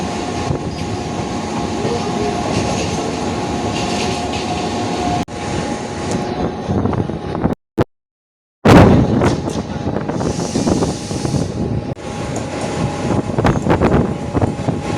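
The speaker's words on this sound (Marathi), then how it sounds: "आता आपण पोचतोय दादर स्टेशनला टच होतोय" A Mumbai AC local train rumbles and rattles steadily as it rolls into Dadar station, with a brief cut in the sound and clanks and squeals as it slows.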